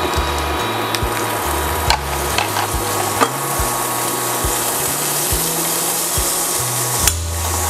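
Butter sizzling steadily in a frying pan, with a utensil scraping and stirring in a regular rhythm, close and fairly loud, with occasional sharper knocks.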